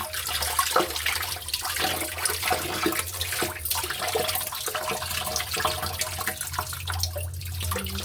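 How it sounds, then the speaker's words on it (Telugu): Tap water running in a thin stream, a steady close-up rush with faint splashing and dripping, continuous with no voices. "ట్యాప్ కొంచెం సన్నగా పెట్టి చేస్తున్నాను."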